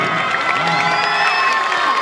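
Children at a taekwondo tournament cheer and shout together, a loud, lively burst of overlapping high-pitched yells and whoops from a crowd, with some scattered applause underneath.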